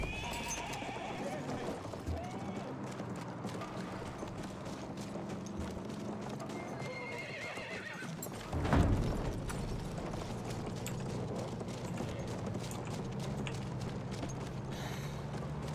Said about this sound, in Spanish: Caballo. Caballo.